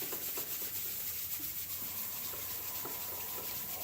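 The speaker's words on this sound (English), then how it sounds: "Rub your hands together, right? Like a Boy Scout trying to start a fire." Hands rubbing briskly together during a medical qigong group class, producing a steady, continuous swishing friction that stays close and even for several seconds with no talking.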